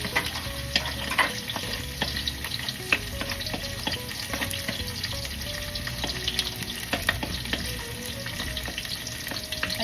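Garlic frying alongside ginger in a pan for ginataang langka: a steady crackling sizzle with frequent small clicks and scrapes of stirring, close and continuous, no voices.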